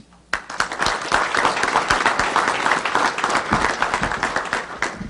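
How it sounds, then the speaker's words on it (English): Applause for a state representative at a police department event, starting abruptly after a short pause and building into loud, dense clapping from a nearby crowd that holds steady to the end. "Round of applause for Representative Cabello."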